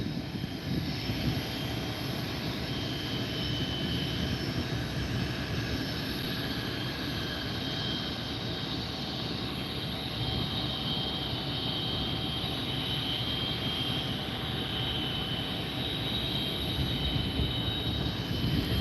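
A jet aircraft landing at a small regional airport, with thrust reversers deployed, gives a steady, loud broadband roar that holds at an even level throughout and has a faint whine above it, with no talking.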